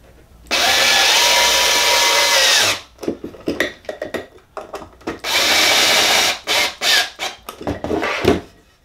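A drill bores pocket holes through a Kreg 720 pocket hole jig, starting with one long loud whirring run, then a cluster of short bursts and a second sustained run, all close by.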